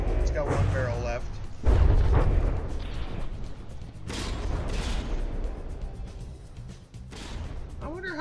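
Naval guns boom and shells burst in a warship video game battle, heavy low thuds and rumbling blasts coming every few seconds while a commentator talks over them.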